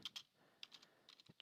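Several quick keystrokes on a computer keyboard, clustered in short bursts with brief pauses, close and fairly quiet with no voices.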